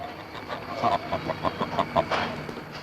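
A goose honking in a quick series of short, nasal calls, about eight honks at an even pace over a faint steady background.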